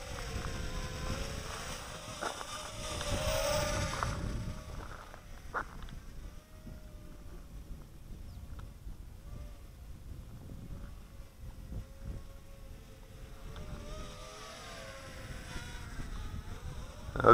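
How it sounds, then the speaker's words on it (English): A JXT388 quadcopter flies with a thin, buzzing whine that is louder at the start and end and fades to faint in the middle, with light handling noises and no talk. "Great little quadcopter."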